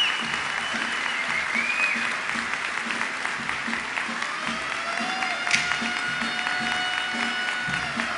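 A crowd at a Puerto Rico National Guard ball gives sustained applause, a moderate, even clatter of many hands with faint tonal sounds and voices in the background.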